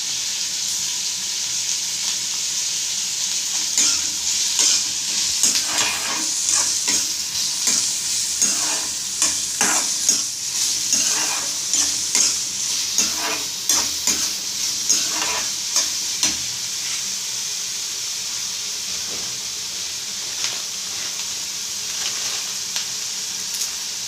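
Green chillies and salt sautéing in a pan, a continuous close sizzle with repeated scraping stirs of a spatula in a steady rhythm through the middle stretch, then easing to a plain fry hiss, no talking.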